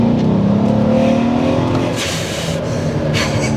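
An 800 hp Mercedes E63 AMG accelerates at full throttle while held in one gear, a loud, close engine roar that climbs steadily in pitch before easing slightly.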